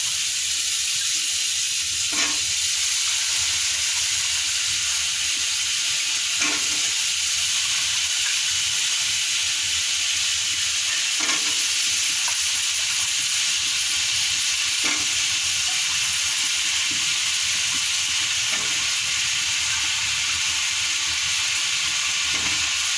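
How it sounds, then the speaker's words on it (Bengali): Potatoes fry with a steady, dense sizzle in a pan, while a utensil stirs them in a few separate scraping strokes spaced several seconds apart; no one speaks. "এটাকে আমরা সুন্দর করে কষবো"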